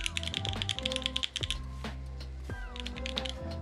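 A Vertex Angle R2 mechanical keyboard with Gateron Oil King switches is typed on close up. Bursts of full, fairly loud keystrokes form a busy clacking patter, with a short pause midway.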